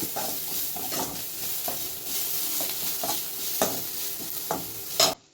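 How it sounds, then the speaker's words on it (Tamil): Chilli idli tossed with masala in a pan, with a continuous close sizzle and rhythmic scrapes and taps of a spatula stirring, ending in a louder clank. "இதை லைட்டாக நல்லா வதக்கிடுங்க."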